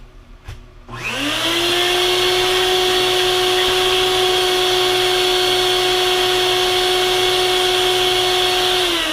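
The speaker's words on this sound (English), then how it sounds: "I'm gonna use the shop vac again, clean things up a little bit" A shop vac starts up after a brief click and spins up to a loud, steady whine, running continuously and close by while cleaning dust off a Magpul 7.62 AC magazine during a modification job.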